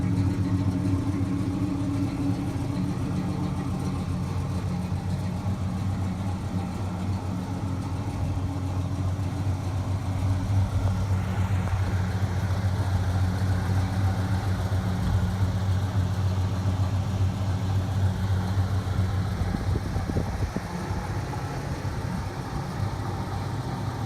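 A 1966 Oldsmobile Delta 88 with its 425 V8 idles steadily up close beside a garage, a deep, even low rumble that holds throughout with only slight swells in the engine note.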